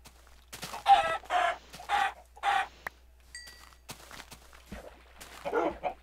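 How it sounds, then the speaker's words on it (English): Minecraft chicken clucking in a hardcore survival game, four short clucks in a quick even run, then a pause and one more cluck near the end, close and clear over faint background hum. "Show me the way, chicken."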